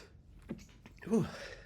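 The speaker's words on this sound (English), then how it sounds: "I'm going to sneeze." A single quiet sneeze bursts out after a brief inhale, close by, with soft breathing before it.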